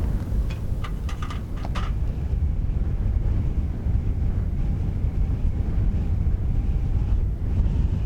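Outdoor wind at a campsite on Vancouver Island gusts and buffets the microphone in a steady low roar, with a few faint clicks early on and no talking.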